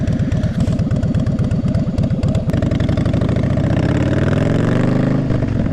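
A Harley-Davidson Softail Slim with the 103 cubic-inch engine, about 1600 cc, fitted with a big intake and short shot drag pipes, loud and close, chugging at a lumpy idle before easing into a smoother, steadier rumble.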